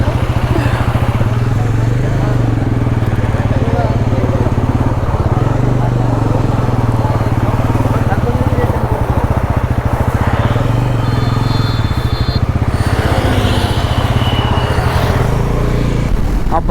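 A 400cc motorcycle roars continuously on the road, a loud steady engine drone heard from on board, with voices talking under the noise.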